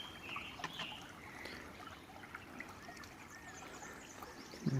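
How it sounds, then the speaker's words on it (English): Cold spring water trickles out of a cave system into a creek, a soft continuous babble close by, with faint bird chirps over it. "this is this pretty neat little spring"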